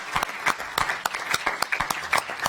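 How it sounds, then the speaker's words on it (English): A round of applause at a city council session, a modest group clapping with distinct individual claps audible in an uneven, lively rhythm. "that deserves a round of applause"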